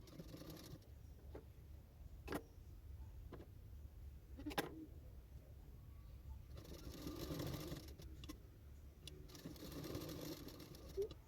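A sewing machine stitches lace onto a blouse sleeve, running in steady whirring bursts with short stops and small clicks between them, close and quiet, no speech.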